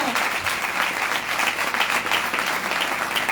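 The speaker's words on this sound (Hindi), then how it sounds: "जोरदार तालियां।" Steady, dense applause from a church audience during a Hindi/Urdu Christian sermon, continuous crowd clapping filling the space at a fairly loud level throughout.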